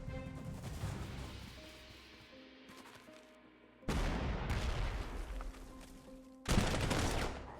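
Battle sounds from the strategy game Panzer Corps 2 as units attack artillery: bursts of rapid gunfire and explosions in loud, dense volleys with sudden cuts between them.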